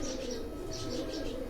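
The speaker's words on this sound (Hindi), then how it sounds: "ये उन्हीं के घर के ये लाखे कबूतर हैं" Lakha pigeons cooing on a rooftop in Jalalpur Bhattian, a steady, low, throaty coo that runs without a break for the whole moment, fairly close, with faint higher chirps above it and no voices.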